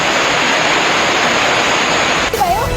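Floodwater surges along rain-soaked roads in a steady, loud broadband rush, with a brief change in tone near the end.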